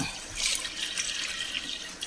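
Leftover boiled water is poured into a cooking pot, a short close splashing gush that runs steadily for about two seconds, with no voices.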